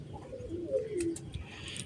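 Pet pigeons coo softly in a brief, faint call over low background rumble.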